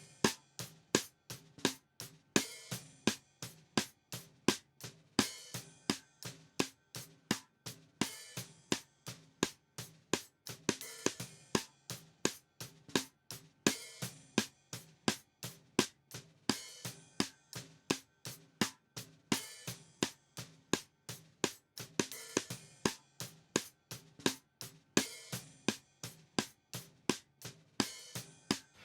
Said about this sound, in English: Hear how much more attack we're getting from our side stick now that we kick the compressor in.